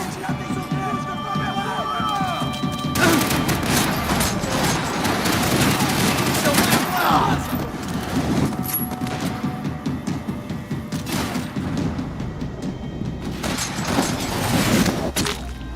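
Sustained bursts of gunfire in the video game Max Payne 3, dense and loud for the whole stretch with a headshot among the shots, while voices talk over the action.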